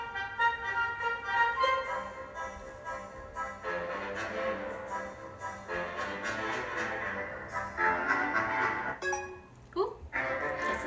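Music for a performance plays quietly and continuously, layered with sustained tones and shifting sections, ending with a brief noisy burst.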